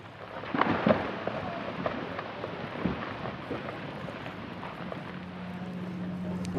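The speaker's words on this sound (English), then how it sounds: "When that iceberg hits that water, you hear thunder." Low rumbling roar of glacier ice calving and crashing into the sea in Glacier Bay, Alaska, with a steady wash of wind and water noise throughout; no voices.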